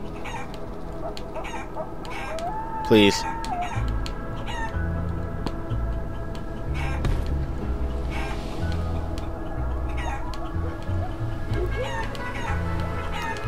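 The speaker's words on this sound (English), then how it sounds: "It's a goddamn chicken." Chicken clucking in the video game Guacamelee, with repeated short clucks and a brief crowing-like call over steady game music, and a player speaking faintly once.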